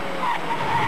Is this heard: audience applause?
no